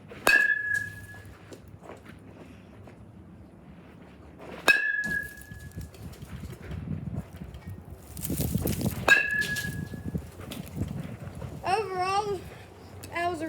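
An Easton CAT 8 metal baseball bat and an Omaha bat strike balls, giving three sharp, ringing pings spaced several seconds apart, with footsteps, chatter and background voices between hits.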